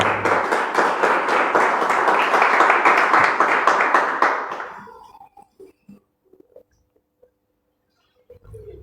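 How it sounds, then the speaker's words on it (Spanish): Church congregation applauding during a Sunday morning service, a dense, loud burst of clapping that fades out after about four seconds, leaving near silence and a few faint knocks. "Den un aplauso esta mañana, por favor."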